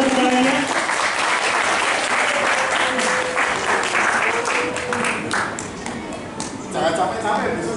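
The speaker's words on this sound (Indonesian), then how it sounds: "Boleh tepuk tangannya?" Audience applause fills a hall at an evening university inauguration ceremony, a steady dense clatter of many hands that holds throughout, with voices and a few cheers mixed in.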